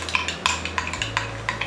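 A spoon clinks rhythmically against a dish while stirring hydrated gelatin, quick regular taps about every third of a second, close and clear over a low hum.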